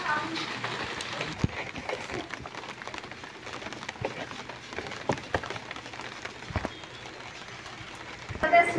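Heavy monsoon rain pours down in Roha, Raigad, in the Konkan, a steady close patter with scattered louder drops, while people talk over it throughout.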